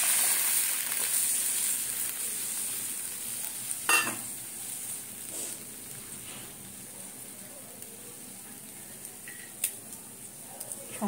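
Milk poured into a pan of fried vermicelli and stirred, a faint steady sizzle with occasional scraping clinks of a utensil against the pan, quiet and close.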